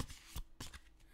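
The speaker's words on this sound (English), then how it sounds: "So let's just give them a bit of a shuffle." Tarot cards being shuffled by hand, two quick loud riffling bursts with a softer flutter between, close and alone with no talking.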